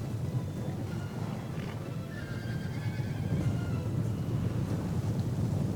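Horses whinny faintly over a constant windy, rumbling battlefield ambience in an Ancient Empires mod strategy game, with a couple of brief neighs rising from the background near cataphract cavalry.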